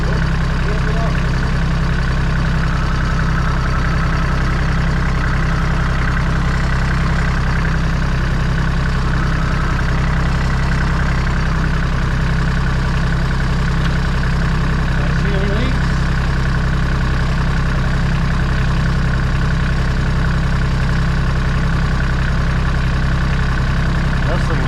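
Steady low engine rumble of a Kioti tractor idling nearby, a constant deep throb with a faint voice now and then underneath.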